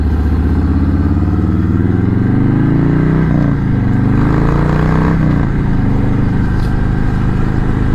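A 2018 Harley-Davidson Sport Glide is ridden with a loud, continuous engine drone that rises and falls as the throttle changes, alongside steady wind and road roar, heard close and without talk.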